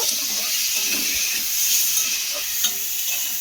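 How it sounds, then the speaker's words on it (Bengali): A chutney mixture with salt fries in a pan and gives a steady, close sizzle and hiss. Scraping stirring strokes rise now and then above it, with no talking. "এটাকে খুব ভালো করে এইভাবে ভেজে নেব।"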